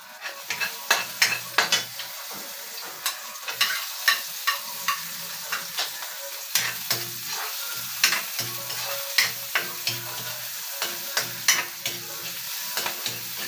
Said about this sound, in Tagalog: Gisa naman tayong sardinas.